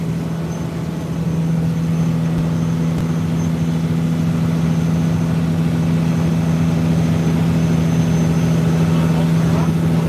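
A lobster boat's engine idles and runs steadily with a strong low hum, loud and close throughout, with a slight rise in level after the first second.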